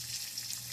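Garlic sizzles in two to three spoons of hot oil in a pan, a steady close frying hiss with no talk.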